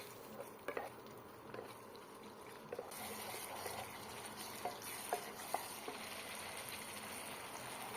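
Eggs are stirred into a yogurt masala gravy for Afghani egg curry, with a low bubbling simmer and scattered soft clinks and scrapes of the spoon in the pan, close and quiet, with no voices.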